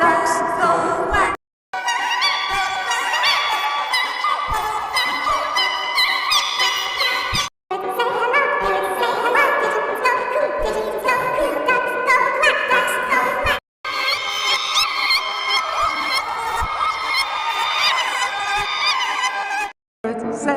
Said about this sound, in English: parrots say hello, pigeons go coo, pigeons go coo, ducks go quack, ducks go quack